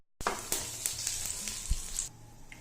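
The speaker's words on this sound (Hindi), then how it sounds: "अब हम इसी तेल में डाल देंगे खड़े मसाले, तेज पत्ता, साथ ही हम लोग जीरा डाल देंगे" Whole spices with bay leaf and cumin dropped into hot oil in a pan, starting with a sudden loud sizzle that holds steady with small crackles and pops, then fades after about two seconds.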